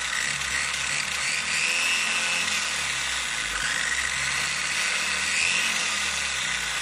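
A Rlaarlo AM X12 RC car's electric motor runs at half throttle, a steady high-pitched whine with a grinding mechanical buzz that holds loud and near throughout without pauses.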